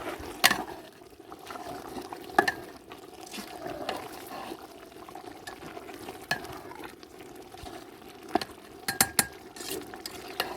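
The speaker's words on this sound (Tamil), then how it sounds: "நல்லா வந்து கிளறி விட்டுக்கலாம்." Curry being stirred in a cooking pot for a festival meat feast, with soft scraping and occasional clinks of the spoon against the pot over a low sizzle, moderately close and steady.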